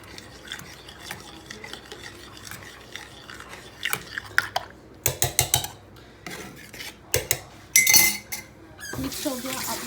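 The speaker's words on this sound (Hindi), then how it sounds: "अब आपने इसी दही को इसके अंदर डाल देना है, दूध के अंदर, और इसको अच्छी तरह से मिक्स कर लेना है।" Yogurt being stirred into milk in a metal pot at home, with scraping, rubbing spoon strokes and occasional clinks against the pot, growing louder in bursts toward the end.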